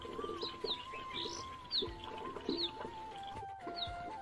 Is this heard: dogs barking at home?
no